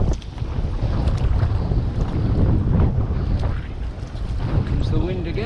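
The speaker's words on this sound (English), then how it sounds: "Comes the wind again." Strong wind buffets the microphone while kayaking along a rocky sea coast, a loud, continuous rushing roar with water sloshing underneath.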